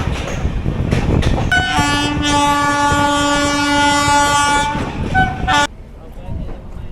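An Intercity train in West Bengal rolling slowly through a station without stopping, its horn blaring in a long sustained toot over rumbling, clattering wheels, heard from inside a general coach; loud and near, ending in quieter rumble.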